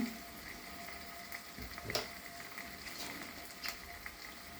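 Onions, ginger-garlic paste, chilli powder, turmeric, salt and coriander-cumin powder frying in a pan for an ivy gourd curry, a soft steady sizzle with occasional brief stirring clicks, fairly quiet and close.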